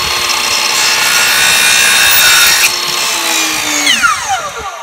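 A power saw cuts through a wooden board at an 11-degree angle, a steady loud close whine with a rising pitch sweep as the blade finishes and spins down.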